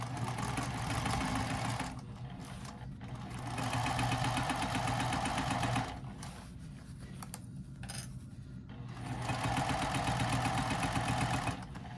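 A sewing machine stitches a triangle pyramid wristlet pouch with a 3/8 inch seam, running in steady mechanical bursts of rapid needle chatter that pause briefly between runs, close and fairly loud with no talking.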